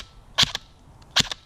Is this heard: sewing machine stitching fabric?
no